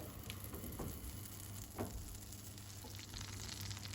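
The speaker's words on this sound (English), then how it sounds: "just melt down your butter" Butter melting in a pan on the stove gives a soft, steady sizzle with faint crackles and a low hum beneath, no talking.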